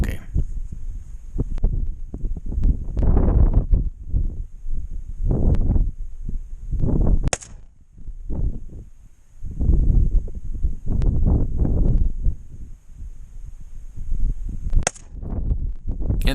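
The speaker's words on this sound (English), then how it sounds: "I'm going to just shoot a few rounds with this one now" Sharp, loud rifle shots from an SLR 95 AK-pattern rifle with a dogleg cover and muzzle brake, fired outdoors a few seconds apart, with wind and handling noise in between.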